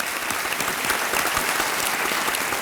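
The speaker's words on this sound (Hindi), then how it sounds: "एक बार तालियों के साथ हम आपका स्वागत करते हैं।" Studio audience applause welcoming a contestant on a TV quiz show set, a loud, sustained burst of many hands clapping, dense and even for the whole clip with no voices standing out.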